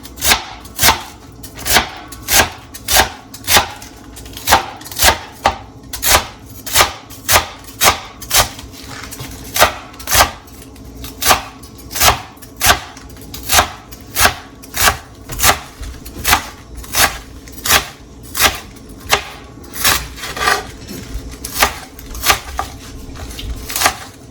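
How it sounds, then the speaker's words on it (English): Knife slicing a quartered cabbage finely on a cutting board, a steady run of crisp, evenly spaced chops close up and loud, with no talking. "I'm just gonna quarter it first, and then slice it as fine as possible."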